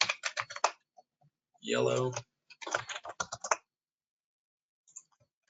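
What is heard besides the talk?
typing on a computer keyboard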